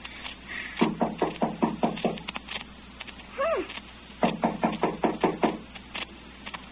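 Knocking on a door in a snowy-night radio drama: two quick bursts of six or seven sharp, close raps each, separated by a brief rising animal-like cry, with no talk over them.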